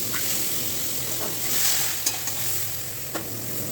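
Vegetables with carrots and eggs frying in a little oil in a pan for breakfast pasta, a constant near hiss of sizzling with a few light scrapes of stirring.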